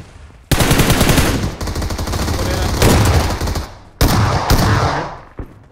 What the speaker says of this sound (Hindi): पीछे भी फाइट हो रहा है और फायरिंग है मेरे